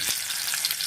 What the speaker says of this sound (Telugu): ఆయిల్ హీట్ అయిన తర్వాత ఎగ్స్ ఫ్రై చేసుకోవాలండి